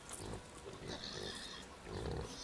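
Pigs in Farming Simulator 2013 grunt and oink softly in a short, faint burst of overlapping snorts, with a slight rustling background.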